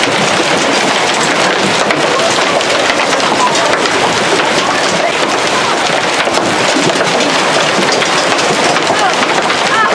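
Hard, relentless clatter of hail battering and denting Ford Edge roofs and hoods, a loud steady roar of impacts with no pauses.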